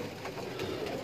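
Pigeons coo softly at close range, a low murmuring call rising and falling through a brief stretch over steady background hum, among birds kept by a Sialkot pigeon fancier.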